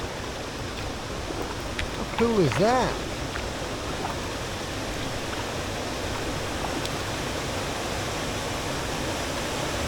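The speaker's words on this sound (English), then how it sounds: "we found a nice little waterfall" A small waterfall pours steadily beside a canoe trail between locks, a constant rushing wash; a person speaks briefly over it near the start.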